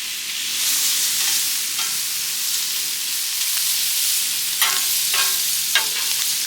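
Garlic butter shrimp sizzle and fry in a hot pan, a steady bright hiss with occasional sharper crackles and stirring scrapes near the end, close and without talk.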